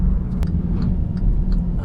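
A 2019 Hyundai Veloster engine pulls under acceleration on a road drive, producing a steady, moderately loud rumble with a few faint ticks over it.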